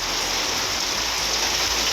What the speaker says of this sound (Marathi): काही ठिकाणी जोरदार तर काही ठिकाणी हलका पाऊस पडलाय